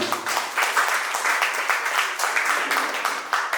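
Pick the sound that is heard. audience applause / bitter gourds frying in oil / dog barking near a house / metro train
audience applause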